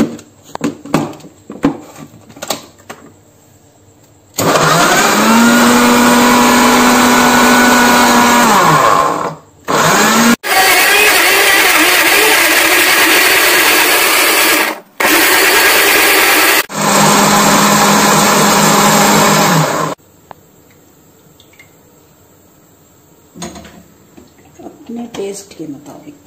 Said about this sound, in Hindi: मैंने लिए हैं 3 टमाटर दरमियाने साइज के और एक दरमियाने से थोड़ा बड़ा प्याज, इसको ग्राइंड कर लें।